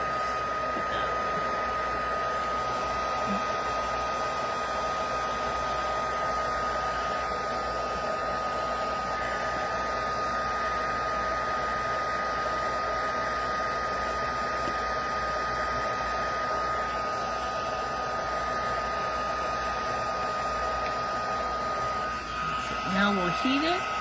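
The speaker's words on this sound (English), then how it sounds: "now we'll heat it, and I'm going to be close to my embossing powder but not touching it" A two-speed embossing heat tool set to its highest setting blows a loud, steady whir of hot air while melting embossing powder, a continuous fan-like roar filling the whole stretch with little change.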